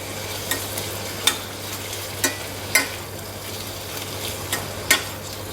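Capsicum with garlic and ginger frying in a pan for Tamil capsicum chutney, with a steady soft sizzle broken by several sharp stirring scrapes spaced a second or so apart, close and moderately quiet.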